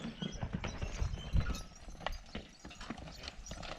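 Hooves of draft horses clip-clop steadily as they pull a White Horse plow through garden soil, irregular thuds and scrapes close by with faint mechanical rattling of the plow, no voices.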